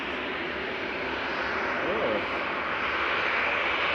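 Aircraft engines at Manchester Airport, a steady loud broadband roar of a plane turning nearby that holds for several seconds without a break.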